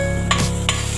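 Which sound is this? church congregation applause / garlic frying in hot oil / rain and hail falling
garlic frying in hot oil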